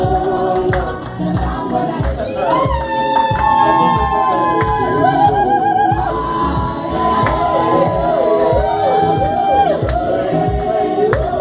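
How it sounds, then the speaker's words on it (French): A church congregation at a wedding blessing applauds loudly and rhythmically, with shouts, whoops and high cheering voices riding over the clapping throughout. "Nous applaudissons le Seigneur très fort."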